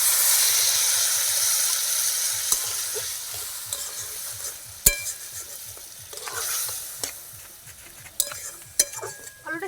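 Sweet singara filling of spiced cauliflower sizzling and hissing in a pan after a splash of water, with steady stirring and occasional sharp utensil knocks against the pan, close and without talk.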